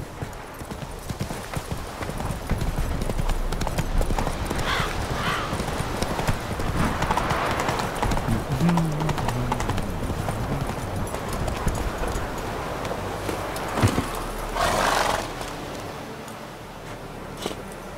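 Roach the horse gallops in The Witcher 3, steady rapid hoofbeats pounding close and loud for the whole stretch, with occasional snorts and no talk over them.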